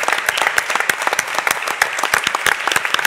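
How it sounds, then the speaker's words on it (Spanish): Audience at a presentation in the Serranía de Cuenca applauds an art collective, with a lively patter of individual claps, distinct sharp hits rising out of a continuous clapping bed. "yo lo primero que pido para ellos es un aplauso,"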